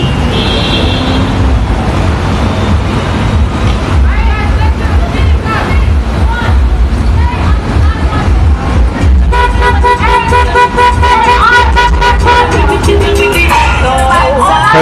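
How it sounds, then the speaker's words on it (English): Cars honk their horns over and over on a highway during a protest in Providence, Rhode Island, with loud, dense bursts and long blares mixed into roaring traffic and crowd noise. "People appear to be honking in support."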